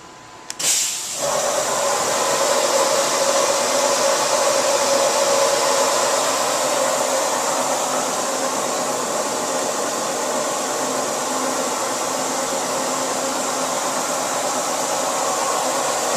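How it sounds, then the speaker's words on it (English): A Fadal 4020 CNC mill's spindle starts at 500 RPM with a short click, then settles into a steady, loud whirring hum with hiss that holds evenly throughout. "I'll now start the spindle. First at 500 RPM."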